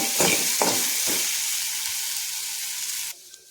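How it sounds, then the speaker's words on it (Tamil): Okra and egg stir-fry frying in oil, a bright continuous sizzle broken by three quick stirring scrapes near the start, close and loud before the hiss abruptly drops away near the end. "இடையில இடையில கொஞ்சம் கிளறி விட்டுக்கோங்க"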